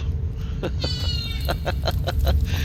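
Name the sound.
cat meowing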